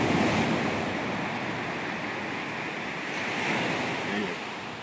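Ocean surf washing onto a Boston beach on a cold morning, a continuous rushing roar of breaking waves with some wind buffeting the microphone, a swell rising toward the middle, no clear talking.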